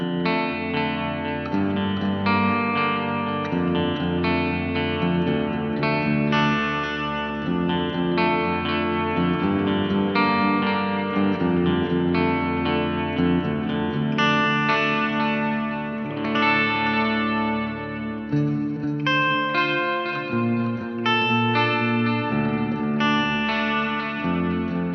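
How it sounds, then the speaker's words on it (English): Guitar runs through a NuX Atlantic with its 80s delay feeding a plate reverb in series, giving a studio-clean tone: sustained chords and notes trail into soft repeating echoes and a wide, washy tail throughout, with no voice. "I'm going to run the 80s delay and the plate reverb for some studio clean sort of stuff"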